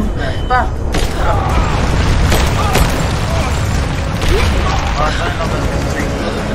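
Continuous loud explosions rumble through a video game scene, forming a dense, booming wall of noise with voices faintly mixed in.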